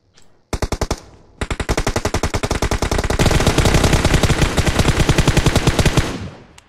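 Rapid automatic gunfire in PUBG Mobile comes in short loud bursts, then settles into a long sustained stream of shots that ends abruptly.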